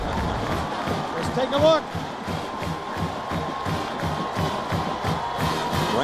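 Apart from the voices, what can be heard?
football stadium crowd cheering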